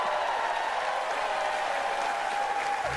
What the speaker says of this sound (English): let's give another big round of applause to the next governor of North Carolina,